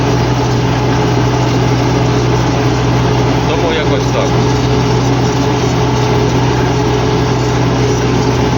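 An MTZ 82.1 tractor engine hauling a DAN 2.5 disc harrow during stubble discing, loud and steady, with its drone running throughout as someone talks over it.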